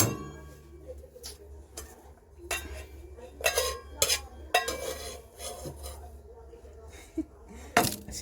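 Softened Maggi noodles are scraped and served from a pan onto a plate in a kitchen: a series of sharp metallic scrapes and clinks of utensil against pan, irregularly spaced and close, with quieter stirring sounds in between.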